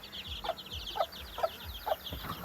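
Chickens cluck in a steady, evenly spaced series of about five short calls, fairly faint over a low background hum.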